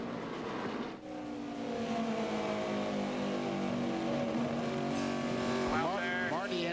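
NASCAR trucks race at New Hampshire, a dense field of engines droning loud and steady with rising and falling pitch as trucks pass, commentary voices running over the roar.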